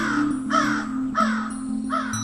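A crow caws three times in a slow, even rhythm, loud and close, over a low steady background hum in a Hindi story cartoon.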